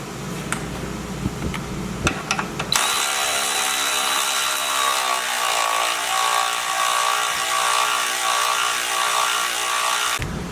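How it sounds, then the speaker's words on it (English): A ratchet wrench tightens and torques bolts on a Jeep Cherokee, with a few sharp clicks early on and then a steady, loud mechanical whir that runs on without a break. "So now what I'm going to do is just go and tighten all of these up."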